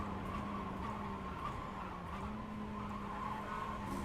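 Race car tires skidding and squealing under hard braking in iRacing, a continuous tonal screech over engine roar, fairly faint and steady for a few seconds.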